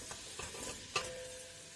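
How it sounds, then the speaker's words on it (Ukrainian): Chopped onion frying in a pan gives a soft, steady sizzle close by, with one brief stirring clatter partway through. "Все, смажиться."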